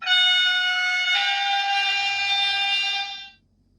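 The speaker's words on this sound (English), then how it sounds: "F7 is the whistle." Sound-effect whistle from a Trix EuroDuplex HO/OO gauge model train, a loud, steady horn-like chord held for about three seconds before cutting off, with no talking.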